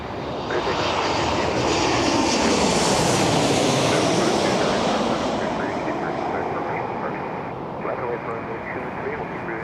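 A jet airliner takes off from a runway at Toronto Pearson airport at sunrise. Its engine roar builds loud and broad, peaks, then slowly recedes, with voices talking over it.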